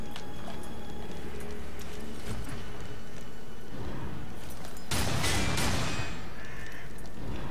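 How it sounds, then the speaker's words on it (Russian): A horse's hooves clip-clop at a steady trot in Darksiders 2, continuous and fairly close, with a louder burst of clatter partway through. "Не место для лошади."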